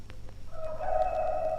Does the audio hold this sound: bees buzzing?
no